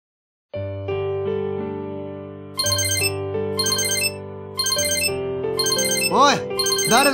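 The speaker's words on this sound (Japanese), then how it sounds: "誰の携帯だ？ うるせえから早く出ろよ。" A mobile phone ringtone plays a repeating electronic melody, rising in loudness through several bright looping phrases with a warbling trill near the end, clear and close, with no talk over it.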